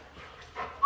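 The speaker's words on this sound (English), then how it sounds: "I got this pit bull right here." A small new pit bull dog pants softly and lets out a brief high whimper up close, a quick burst of breathy sound.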